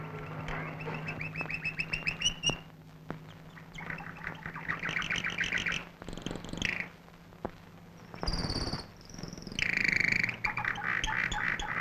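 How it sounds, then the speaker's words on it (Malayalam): A guard parrot chirps and squawks in bursts against a steady background hum, with a few other bird-like calls mixed in at a moderate distance. "എന്തോ ഇനെന്താ പതിവില്ലാതെ കാവൽ തത്ത ചിലക്കണത്?"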